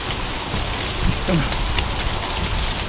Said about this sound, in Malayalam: ചെറിയ മരമാണ്, കുലുക്കി നോക്കട്ടെ.